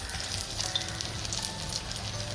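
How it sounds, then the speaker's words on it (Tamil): Batter-dipped tongue sole fish sizzles in hot oil for fish bhaji, a steady, close crackling hiss that continues evenly throughout with no voices. "இப்போ நம்ம மாவில் இந்த நாக்கு மீனை டிப் பண்ணிவிட்டு அழகாக இப்போ எண்ணெயில் போட்டுடலாம்"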